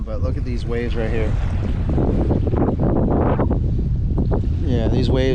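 Wind buffets a small fishing boat on choppy water in Charlotte Harbor with a constant roaring rumble, while someone talks over it throughout.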